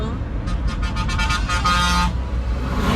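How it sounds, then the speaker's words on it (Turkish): A car horn honks in a rapid series of short toots, then one longer blast, over steady road traffic noise in a Sakarya village. "Ne biçim korna?"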